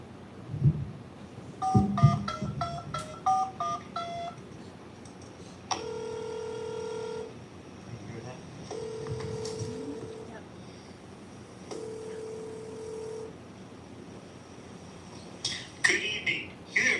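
A phone keypad beeps out a quick run of dialing tones, then a line rings back in several long evenly spaced tones, at an indoor meet and greet in a legion hall.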